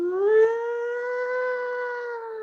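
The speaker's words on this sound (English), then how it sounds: "It's a siren." A paramedic truck siren wails in a single sustained, rising-then-level tone, clear and moderately loud with no talk.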